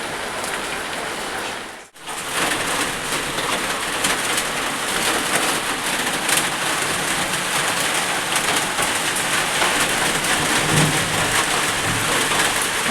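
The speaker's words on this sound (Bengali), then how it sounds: "এই যে বৃষ্টি পড়ছে, কিছুক্ষণ আগেও হয়েছিল, কমেছে, আবার সেই বিদ্যুৎ চমকাচ্ছে" Steady rain pours throughout a thunderstorm, a dense hiss that briefly drops out near the start, with a faint bird cooing in the background and no voices.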